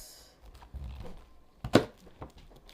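A knife cuts around the stem of a cabbage with a few soft taps on the board, then one sharper, louder chop near the end.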